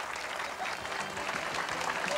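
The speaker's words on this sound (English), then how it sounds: "And let's hear it for Charles Knight and his tortellinis" Studio audience applause at the close of a cooking show segment, a steady wash of clapping hands that holds at an even level throughout.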